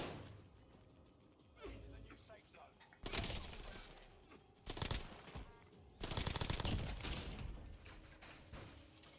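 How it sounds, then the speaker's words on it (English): A grenade explodes amid gunfire in Warzone, with sharp bursts of shots and crashing impacts in rapid clusters, loud and close, while a player talks over it. "Did someone else throw that grenade?"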